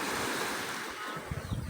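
Ocean waves at a beach give a continuous hissing wash of surf mixed with wind noise on the microphone. Low rumbling thumps come in near the end.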